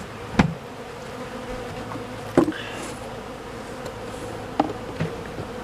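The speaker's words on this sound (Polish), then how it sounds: "zadymić, żeby tu pszczoły nie wskakiwały" Honeybees buzz around a hive in a continuous drone close by, broken by three sharp knocks spaced a couple of seconds apart.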